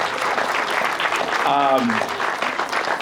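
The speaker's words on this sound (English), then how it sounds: "Let's give her a round of applause." Applause from guests at an energy summit opening reception fills the room, a continuous crowd clapping with a brief spoken voice rising above it midway before the clapping carries on.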